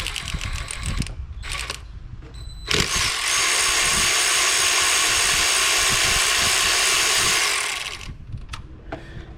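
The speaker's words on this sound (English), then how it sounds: "we're going to go ahead and remove the two 10mm bolts" A power tool whirs steadily for several seconds while backing out 10mm bolts from the thermostat housing of a Chevy 3.8 engine, with softer clicks and handling noises before and after the run.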